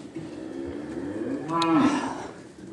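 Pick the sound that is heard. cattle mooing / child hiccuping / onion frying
cattle mooing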